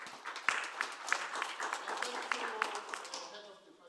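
Applause from a conference audience closing a session of presenters, a moderate patter of clapping with a few sharper individual claps, somewhat distant and fading toward the end.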